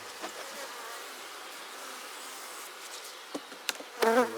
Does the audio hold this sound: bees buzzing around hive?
yes